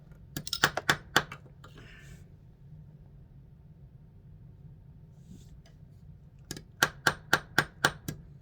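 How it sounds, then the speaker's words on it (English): A hammer tapping on a BMW S1000RR motorcycle to break a stuck part loose: a quick burst of sharp metallic strikes, a quiet pause, then another rapid series of about seven ringing taps, close and loud. "Get a hammer. Maybe hit it a little bit. Maybe that'll help break it loose."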